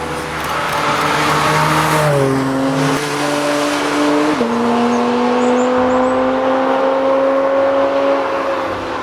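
Fast cars on a northern Estonian coastal asphalt road drive past and accelerate, a loud continuous engine roar with rising and shifting pitch as gears change, close and steady throughout.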